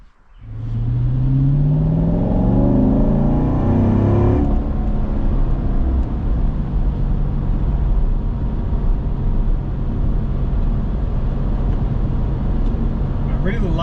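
A manual car pulls away and accelerates hard on a drive shortly after a Seafoam intake cleaning, its engine note climbing through the revs before settling into a steady, loud, close road rumble.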